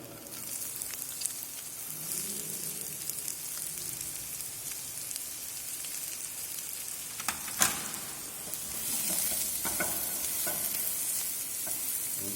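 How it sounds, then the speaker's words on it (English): Chopped onions sauté in a pan with a steady, even sizzle and stirring scrapes close up, a louder utensil knock near the middle. "Saute the onions into it."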